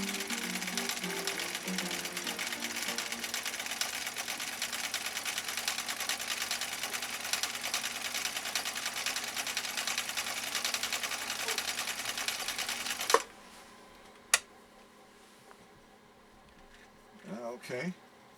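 A 1962 Husqvarna Viking Type 21E sewing machine stitching a decorative cam pattern, a fast steady mechanical whir running for about thirteen seconds before it stops, followed by a couple of clicks and brief talking.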